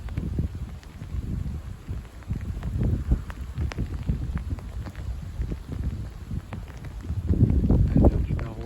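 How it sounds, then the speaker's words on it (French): Strong gusting wind during a nighttime cold front, low rumbling buffeting against the microphone with fluctuating intensity, swelling louder toward the end, no speech. "Pas mal de vent là. Ça arrache même les pétales."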